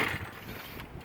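A single quick pull on the starter cord of a small propeller engine with the choke on gives a brief, close ratcheting whir that fades without the engine catching.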